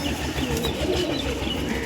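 Domestic pigeons, Andhra and star kalankha breeds kept at a loft for sale, coo softly in a continuous low murmur with faint wing flutters, close by and without talk.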